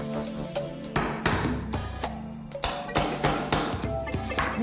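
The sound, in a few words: countersinking nails into wooden trim with a hammer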